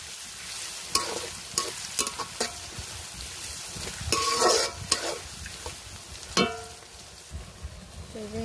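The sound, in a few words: whole spices, garam masala and cardamom, frying in a pan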